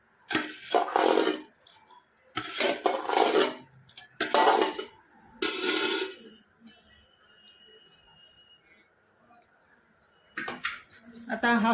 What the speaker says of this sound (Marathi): आता हा खार व या खापा आपण चांगलं हलवून घेऊ.